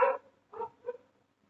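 A dog gives three short, fairly quiet barks spaced about a third of a second apart, each brief and somewhat distant, with no talking.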